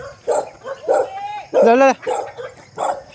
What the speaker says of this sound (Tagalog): May aso pala la.